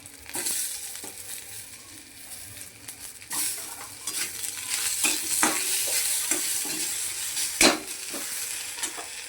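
Tomato and garlic masala with onion is stir-fried for a spicy potato curry, producing a continuous close sizzle and repeated spatula scrapes and knocks against the pan, growing busier midway, with no talking.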